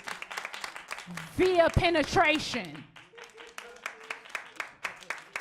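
Comedy club audience clapping in scattered, uneven bursts, moderately close, while a person speaks over the middle of the applause.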